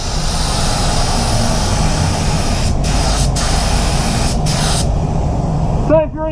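Standoblue Standard clear coat is sprayed onto a silver Volvo XC90 as a loud, steady, close hiss with a few short breaks, ending with a brief clank and a rising whine.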